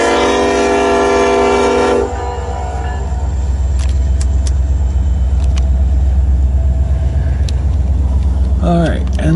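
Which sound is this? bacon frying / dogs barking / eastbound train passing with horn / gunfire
eastbound train passing with horn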